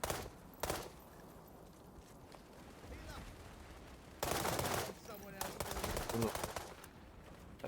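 Video game gunfire sounds in loud bursts of rapid automatic fire, a short volley at the start and longer, heavier bursts in the second half, with scattered softer shots and faint talk between them.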